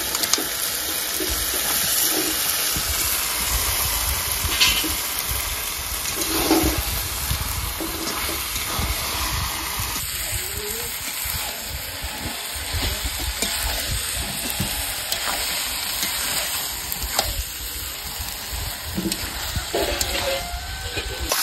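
Country chicken meat frying in spice masala in a pot, a steady loud sizzle with stirring scrapes and clatter throughout, while a voice speaks faintly underneath.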